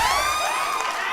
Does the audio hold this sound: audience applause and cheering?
yes